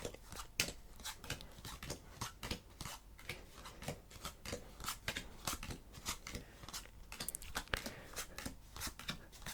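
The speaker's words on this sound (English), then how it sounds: "they deal the cards all the way through until we reach the end" Playing cards are dealt one by one in a steady series of crisp snaps and slides, close and fairly quiet, repeating rhythmically without speech.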